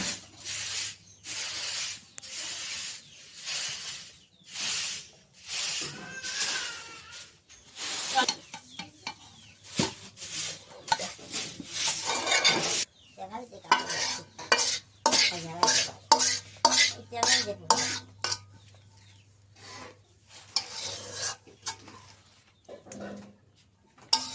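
Shrimp frying in a pan with a spoon scraping and stirring, giving repeated bursts of sizzle and metal clatter with short pauses between them, while birds chirp faintly in the background.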